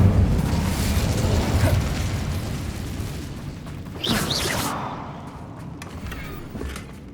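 Incendio fire spell cast in the video game Hogwarts Legacy: a loud, whooshing, roaring burst of flame over a rumbling game backdrop, flaring again around the middle before fading into quieter ambience.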